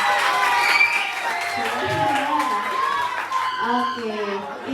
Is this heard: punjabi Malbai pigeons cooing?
no